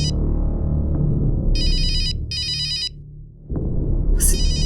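A phone ringtone plays in a domestic night-time scene in a crime drama, sounding in two bursts of a bright repeating electronic melody over a low background hum, with another short ringing chirp near the end.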